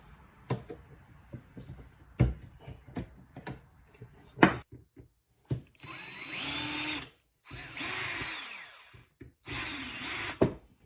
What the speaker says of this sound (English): I'm gonna drill out this and see if we can do something about it